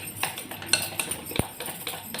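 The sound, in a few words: whisking egg pakora batter in a bowl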